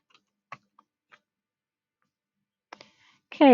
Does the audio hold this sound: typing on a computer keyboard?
yes